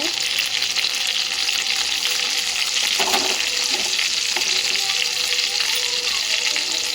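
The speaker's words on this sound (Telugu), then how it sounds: "మంటని సిమ్లో పెట్టుకొని ఫ్రై చేసుకోవాలి సార్" Chicken keema balls fry in a pan over a low flame, giving a steady, close, continuous sizzle with light crackling and occasional stirring.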